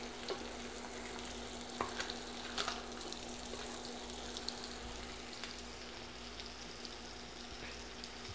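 Tilapia fillets fry in a pan just after being flipped, a faint steady sizzle with a few soft clicks and stirring noises, no talk.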